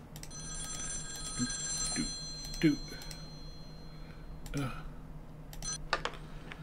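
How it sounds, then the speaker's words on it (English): An old-style telephone bell rings in short repeated bursts in The X-Files Game video game, with a voice speaking briefly between the rings over a soft background hum. "That's your phone."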